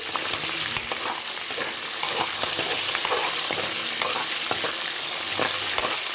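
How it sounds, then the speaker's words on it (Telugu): Pieces being fried golden brown on both sides give off a steady, bright sizzle close up, broken by occasional clicks and scrapes as they are turned in the pan. "వీటిని తిప్పి 2 వైపులా వేయించుకోవాలి"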